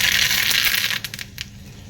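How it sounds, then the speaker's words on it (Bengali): Mustard seeds crackling in hot oil, a loud dense hiss that suddenly thins into scattered sharp pops, close up with no voices. "সরষা যখন চটচট করে ফুটে উঠবে"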